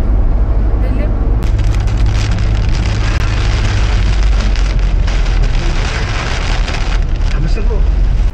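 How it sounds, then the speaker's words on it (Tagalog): Heavy rain pours outdoors under a darkening sky, a loud, dense and continuous hiss with scattered patters, while people talk underneath. "Grabe ulan."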